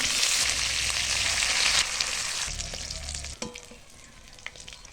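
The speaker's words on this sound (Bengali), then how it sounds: "মাছগুলো তেলে দিয়ে ভালো করে লাল লাল করে ভাজে তুলবো।" Rohu fish frying in mustard oil in a wok gives a loud, close sizzle that eases after a couple of seconds, with stirring clatter and a sharp knock as it settles to a quieter crackle.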